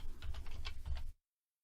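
A short burst of rapid typing on a computer keyboard, close and crisp, clattering steadily for about a second before stopping dead into silence.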